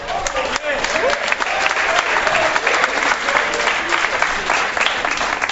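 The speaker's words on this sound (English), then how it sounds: "Could I ask the crowd to please quit applauding everything this man says?" Studio audience applause on a sports debate show, loud and dense clapping filling the room for several seconds with voices mixed in beneath it.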